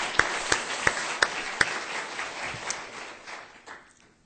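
A church congregation at a Christmas worship service breaks into applause: a few sharp, separate claps first, then a denser wash of clapping that gradually thins and fades out.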